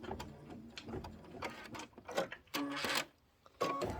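Embroidery machine sewing a decorative stitch around a reindeer head design on a tote bag, rapid bursts of mechanical needle chatter separated by short pauses, close and fairly quiet.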